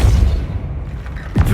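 Depulso spell cast in Hogwarts Legacy, a heavy low boom at the start that decays into rumble, followed by a short whooshing swipe near the end.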